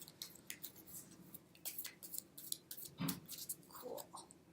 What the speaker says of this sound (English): Let me shuffle just a little bit longer.